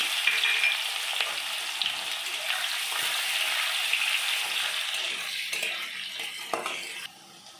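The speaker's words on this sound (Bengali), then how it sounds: "পেঁয়াজগুলো ভেজে নিয়েছি" Chopped onions and cumin seeds fry in hot oil in a pan, a steady bright sizzle that runs close and loud with faint clinks of stirring, easing off near the end.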